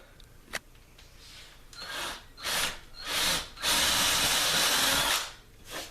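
A power drill drives a screw into wood for a TV wall mount, a sharp click followed by four escalating bursts of whirring, the last one long and loud, close by.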